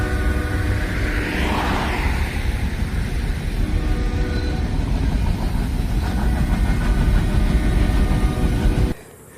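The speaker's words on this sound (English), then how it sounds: "I can hear the train way over on the left" A distant train on rails in rural Oklahoma, heard from a highway shoulder as a steady low rumble under wind and road noise, ending abruptly.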